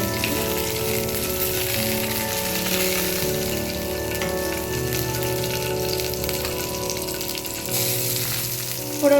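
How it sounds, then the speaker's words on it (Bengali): Whole spices (a bay leaf, a green chilli and nigella seeds) fry in hot mustard oil, a continuous dense sizzle and crackle, close and steady throughout with a slight swell near the end. "ফোড়নটা ভেজে নিচ্ছি।"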